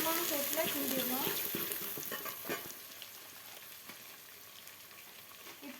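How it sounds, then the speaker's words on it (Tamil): Food being stirred and fried in a pan on medium heat with coriander, making a soft sizzle with scraping spoon strokes and clinks that are busier at first and quieter later. "மிதமான சூட்டில் கிண்டிடணும்"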